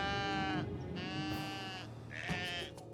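Sheep bleat in a few drawn-out, wavering calls, one after another with short gaps, fairly close and clear against a quiet outdoor background.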